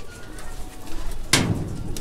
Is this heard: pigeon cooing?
yes